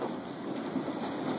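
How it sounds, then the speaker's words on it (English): Large hail, up to about an inch and a half, pelts a house in Florissant, Missouri during a March hailstorm, a dense continuous roar of impacts with a steady rushing texture. "It is just pelting the house, is smashing things."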